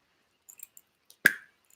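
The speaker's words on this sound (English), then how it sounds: "that's the sound of that black lava bead within." A small black lava bead rattles inside a shaken mist bottle, giving a few faint ticks followed by one sharper clack, quiet and close in near silence.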